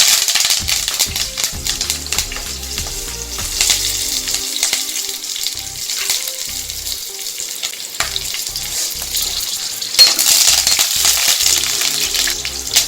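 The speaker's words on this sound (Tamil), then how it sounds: "கருவேப்பிலை நல்லா பொரிஞ்சதுக்கப்புறம்" Curry leaves and green chillies fry in hot oil for an egg masala curry, giving a loud, steady crackling sizzle with sharp pops and bursts throughout, and no one speaking.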